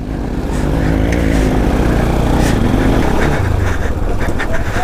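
An offroad motorcycle engine drones and revs loudly and close while the bike slides through mud during heavy rain, with a continuous rough low rumble shifting in pitch as the throttle changes.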